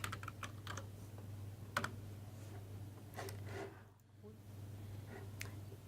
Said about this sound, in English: you go to your favorite web browser and type in BLAST